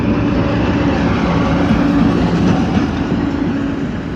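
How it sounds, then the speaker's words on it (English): A train passes on rails nearby, loud and steady with a dense rumbling roll and faint rhythmic clatter throughout, no voices. "Yeah, that was the train."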